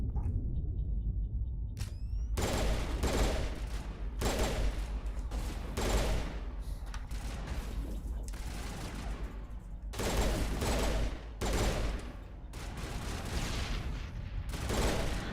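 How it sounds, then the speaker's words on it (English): Burst-fire gun in Mass Effect Legendary Edition shooting repeated short volleys in an uneven rhythm, loud and close over steady combat rumble. "Oh, I put on a freaking burst gun."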